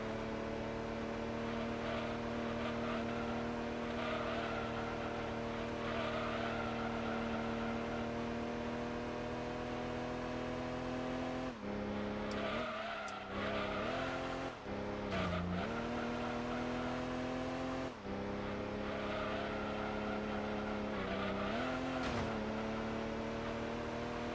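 Mini rally car with heavily overpowered engine racing around Tahiti Road in Gran Turismo 2, a steady loud engine drone with shifting revs, brief dips and gear changes, and tire noise throughout, no talking.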